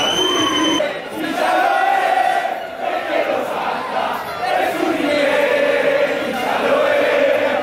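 Argentina football supporters chant in unison at the World Cup in Russia, a loud, close crowd of many voices rising and falling in sustained melodic waves with no pauses.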